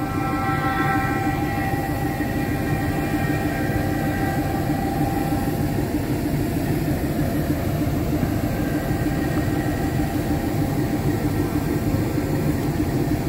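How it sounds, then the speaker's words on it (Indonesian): The Cikurai passenger train pulls out of a high station set on an ancient volcanic caldera, producing a continuous loud rumble with a steady low engine drone and no pauses. "Kereta api Lodaya sudah melintas, tinggal kereta api Cikurai diberangkatkan."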